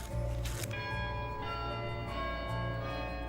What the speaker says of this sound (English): church bells ringing and a Muslim giving a sermon